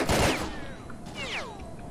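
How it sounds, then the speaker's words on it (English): Short bursts of rifle fire in S.T.A.L.K.E.R. Clear Sky: a loud opening burst of shots, then a second, quieter burst with ringing whistles and echoes trailing off. "Oh yeah, it does fire in bursts."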